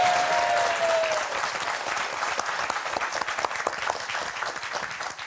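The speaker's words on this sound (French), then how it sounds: "c'est moi qui vous applaudis toutes et tous" A French television game show studio audience applauds steadily and loudly for the full stretch, a dense wash of clapping with no voices standing out.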